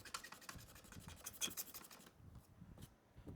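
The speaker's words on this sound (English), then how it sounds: "Try and scrape some of the scratches off this Lego." Close, quiet scraping of scratches off a plastic Lego piece, rapid repeated rasping strokes that ease off and grow sparser toward the end.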